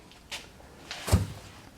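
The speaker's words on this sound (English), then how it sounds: "That's where the gas door's at." Fuel filler door on a 1982 Chevrolet squarebody truck, opened and closed as two or three short, light knocks and clicks at close range, with no talking.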